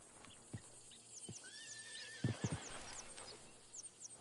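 A horse whinnies in Red Dead Redemption 2, a drawn-out neigh mid-clip amid a few scattered hoof thuds and quiet outdoor ambience, fairly faint overall.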